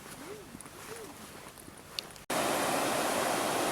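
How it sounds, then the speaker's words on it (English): The raging Zanskar river, not yet completely frozen, roars as a loud, dense, continuous rush of water that bursts in abruptly after a quieter opening stretch of faint outdoor ambience with a few soft whistling tones. "The raging Zanskar river, which is not yet completely frozen."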